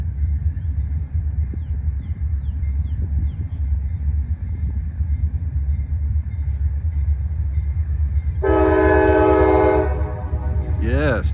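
Freight train led by GE and EMD locomotives working a grade, a steady low rumble and rail noise throughout, with a loud horn blast near the end over the continuous roar.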